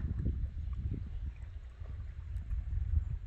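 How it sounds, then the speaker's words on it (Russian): Small boat rocking on open water in a light breeze: a low, continuous rumble of lapping water and wind buffeting the microphone, with gentle swells in loudness and no talking. "качает меня. Ветерок дует."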